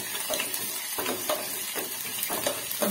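Cumin seeds and garlic frying in oil on low heat for milk sambar, a steady close sizzle with crackling and occasional stirring scrapes of a spoon in the pan.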